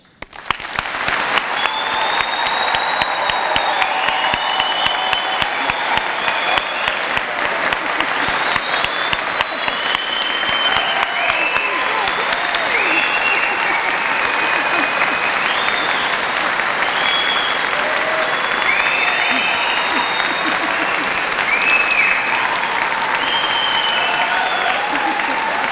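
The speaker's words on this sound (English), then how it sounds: "I'd like our audience to give them the start of some of the thunderous applause that they're going to receive as they" Loud, sustained applause from an audience at a Birmingham degree ceremony greeting graduates as they cross the stage, a dense wall of clapping that swells quickly and holds steady for the whole stretch, with scattered cheers and whoops rising through it.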